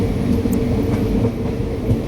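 Steady low rumble and rattling inside a moving train carriage between Cherukara and Nilambur, with faint rhythmic clatter from the wheels, continuous and fairly loud throughout.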